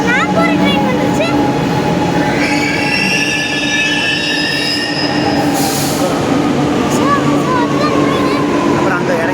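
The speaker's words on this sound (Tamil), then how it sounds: "ட்ரெயின் போகுது ஃப்ரெண்ட்ஸ்." A metro train moves off from the platform, its wheels squealing in long high tones over a continuous loud rumble, with someone talking nearby.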